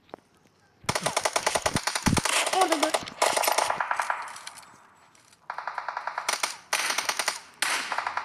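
Automatic gunfire from the battle royale video game PUBG rattles in long rapid bursts, loud and close, with short pauses between volleys and a few quieter single bursts near the end.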